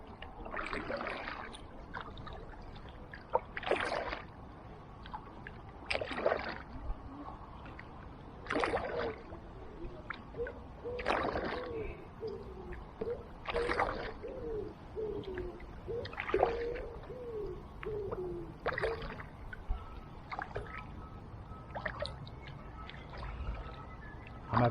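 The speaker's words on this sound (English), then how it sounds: "I'm having to put in far too many strokes to get this kayak to manoeuvre" Kayak paddle strokes splash the water in a regular rhythm, one every couple of seconds, on a calm river stretch near Allington Lock toward Maidstone, quiet and close with soft drips between strokes.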